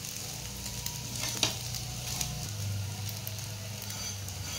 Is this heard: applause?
no